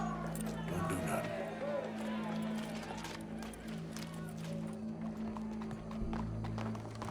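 Horse hooves clip-clop in Red Dead Redemption 2, a steady rhythmic trot under a low ambient hum, with someone talking over it.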